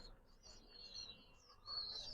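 Pet birds kept for sale calling, brief high chirps and whistles, faint and somewhat distant, with a sharper call near the end.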